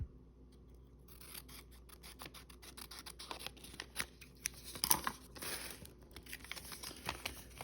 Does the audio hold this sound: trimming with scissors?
yes